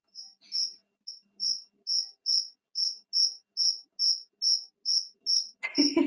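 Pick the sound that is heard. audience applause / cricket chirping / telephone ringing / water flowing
cricket chirping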